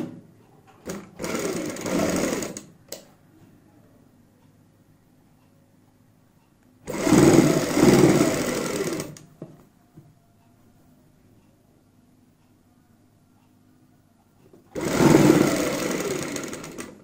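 A sewing machine stitches a neckline trimmed with gotta patti in three separate loud bursts, each about two seconds long, with quiet pauses between them.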